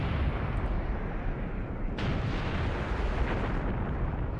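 Gunfire and artillery from an Iran-Iraq War strategy game battle at Karkeh Khor, heard as a continuous dense rumble of distant booms and shots with a sharper burst midway, no voices present.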